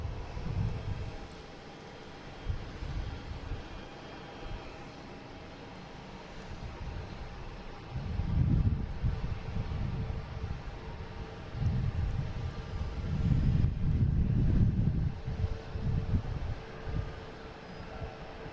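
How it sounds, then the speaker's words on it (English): A Cape Air plane takes off on runway 27 at Boston Logan International Airport, heard as a distant, steady engine rumble that swells and surges in loudness under continuous wind noise on the microphone. "we have a Cape Air taking off on 27"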